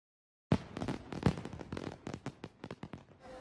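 Fireworks at a festival pop and crackle in a rapid, irregular series of sharp bursts, fairly faint and somewhat distant, with no voices.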